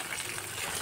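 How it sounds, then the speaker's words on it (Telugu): Water from a tunnel waterfall pours onto a road, giving a steady, close hiss of splashing flow that holds even through a brief moment. "ఇక్కడ నుంచి ఇట్లా రోడ్లోకి పడుతుంది"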